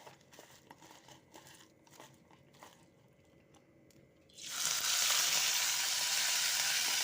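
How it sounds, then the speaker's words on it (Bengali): Prawn heads drop into hot mustard oil, and after a quiet start with light clinks a loud, dense sizzle erupts and holds steady to the end, close by, with no talking. "এখন আমি মাথাগুলো ভেজে নেব।"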